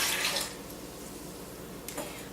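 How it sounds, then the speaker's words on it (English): About three-quarters of a cup of water is poured into a Vitamix high-speed blender, giving a brief soft splash that fades into quiet, with a small second splash near the end. "I'm starting with adding 3/4 of a cup of water"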